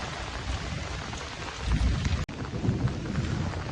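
Heavy rain pours down in a dense, unbroken roar, with a low rumble swelling beneath it.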